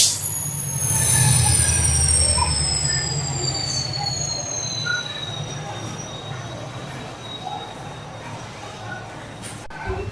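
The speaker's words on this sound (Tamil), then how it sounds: "ஹூப்ளி ரயில்வே ஸ்டேஷன்ல 15 மினிட்ஸ் ஹால்ட்டுக்கு அப்புறம் கிளம்பியாச்சு" The Chalukya Express pulls out of Hubli Junction with a low rumble and high, drawn-out wheel squeals sliding downward in pitch, joined by scattered clanks from the moving cars; faint voices sit in the background.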